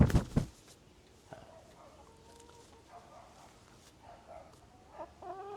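Backyard chickens cluck in short scattered bursts around a coop, with a loud close flurry at the start and softer intermittent clucks afterward against a quiet outdoor background.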